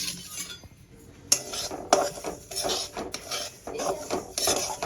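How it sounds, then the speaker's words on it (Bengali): Semolina being dry-roasted in a hot kadai for a winter semolina khichuri, with a steady gritty scraping of the spoon and a few sharper metallic knocks against the pan, close and moderately loud with no talk. "এবার আমি সুজিটা ভেজে নেব।"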